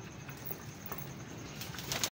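Pigeons coo softly near a feeding spot where they have been eating grain, a low steady murmur with faint fluttering and patter.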